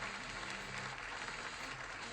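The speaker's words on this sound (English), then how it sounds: "Big applause for Davey van Loon." Audience applause at a tech company keynote, a sustained wash of clapping from a crowd with no voices over it, holding at a fairly even level.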